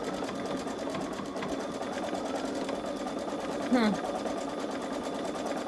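A Babylock Solaris Vision embroidery machine stitches out a design with a steady, close, humming whir and a fast needle rhythm. A person talks over it.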